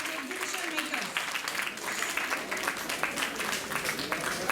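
An audience at a National Science Day 2025 event applauds the exhibition makers, a fairly quiet, somewhat distant patter of many hands clapping, with some voices and talk mixed in.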